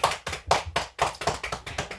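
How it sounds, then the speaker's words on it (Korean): A small church congregation applauds during a Sunday service, with sharp, rhythmic hand claps landing in an even beat about four per second, loud and close, with no talking. "우리 하나님께 영광의 박수와 보내시죠"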